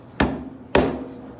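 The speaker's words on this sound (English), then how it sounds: "Now I shouldn't be chopping on this table" A meat cleaver chops through a pork half hog on a table, two heavy, sharp thwacks about half a second apart, each ringing briefly before it fades, with no voices.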